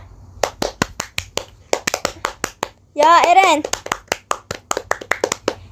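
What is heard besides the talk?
hand clapping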